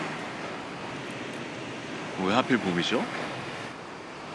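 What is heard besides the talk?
ocean waves on the shore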